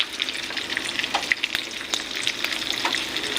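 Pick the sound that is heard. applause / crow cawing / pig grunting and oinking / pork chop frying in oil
pork chop frying in oil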